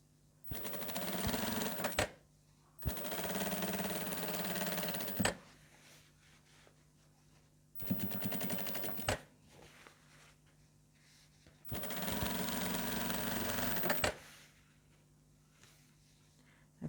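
A sewing machine stitches fabric for a communion dress in four separate bursts of rapid, steady whirring, each a couple of seconds long, with quiet pauses in between.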